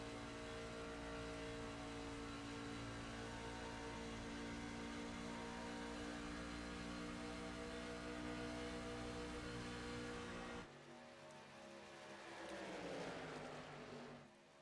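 An off-road race truck engine driven on very light throttle during an Outlaw Truck Series race holds a steady, even drone, then drops suddenly into a quieter, shifting note near the end.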